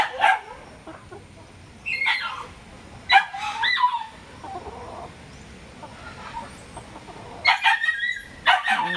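Chickens cluck in scattered bursts, fairly close, with quieter pauses between and a sharper flurry of clucking near the end.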